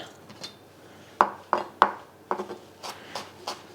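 A knife minces garlic by hand on a board: a handful of crisp, irregular chopping taps close by, with quiet gaps between strikes and no talking.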